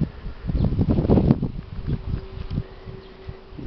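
Honeybees flying around hives in an apiary in spring, a steady buzzing drone close by, with a louder burst of wingbeats early on and soft rustling underneath.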